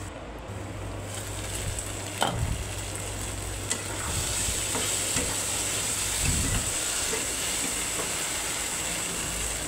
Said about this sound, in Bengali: এই যে ঢেকে ঢেকে কষিয়ে নেবেন।